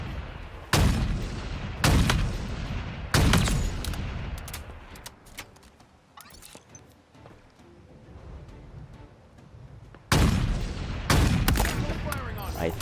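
Loud sniper rifle shots from Halo Infinite: a quick run of three sharp cracks, a quieter stretch of ambient game noise, then three more booming shots close together near the end.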